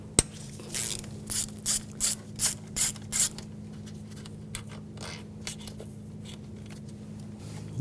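A ratchet loosens intake manifold bolts on a 2011-2018 Volkswagen Jetta 2.0L TDI, six rhythmic ratcheting bursts close up over a low steady hum, then scattered metallic clicks.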